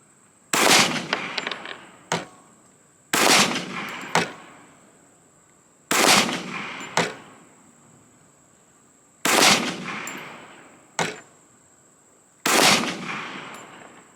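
A Glock 21C pistol fires Remington .45 ACP rounds in five spaced pairs of loud, sharp shots, each followed by a short echoing tail, with no talking.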